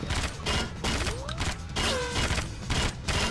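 Shotgun fire in the James Bond game Agent Under Fire: a rapid series of loud, punchy blasts with mechanical clatter and a few whizzing ricochet tones.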